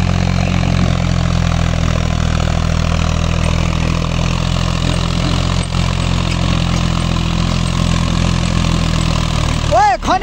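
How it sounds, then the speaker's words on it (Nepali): A tractor hauling sand at Yulung Pokhari holds a loud, even, low engine rumble close by for the whole stretch, with a brief warbling tone at the very end. "सेरेको सालोले ट्र्याक्टर कुदायो"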